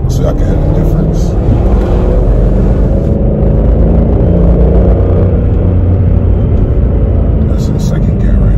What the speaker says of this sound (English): That's in second gear right now. So that's probably like the most aggressive it sounds when you start driving it in gear.